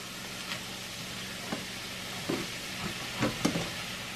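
Sausage frying in rendered bacon grease, a steady hiss under occasional soft scrapes and taps of stirring.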